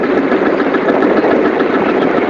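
A vintage Field Marshal tractor runs at a grand parade, its engine a loud, steady, close rumble that holds an even throb throughout.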